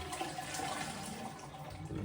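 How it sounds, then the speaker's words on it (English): A Roca toilet cistern flushes with a steady, faint rush of water that runs for the whole stretch, close and without voices. "Make sure it flushes."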